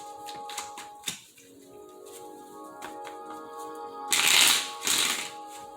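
Tarot cards are shuffled close by, with several light taps and slides first and then a louder riffling burst near the end, no voice over it.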